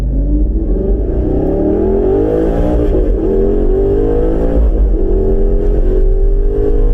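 An Audi R8 in sport mode accelerates hard, its engine note climbing and holding as a loud, steady roar heard from inside the car, with no talk.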